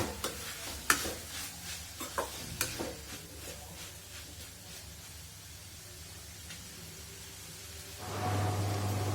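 Broccoli egg burji being stirred in a pan, with a few sharp spatula scrapes and clicks early on over a low steady sizzle, then a louder hiss of frying rising near the end.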